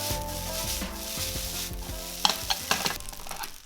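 Rice for kimchi fried rice sizzles and crackles in a hot frying pan while a utensil stirs and scrapes through it, with a few sharp clicks toward the end.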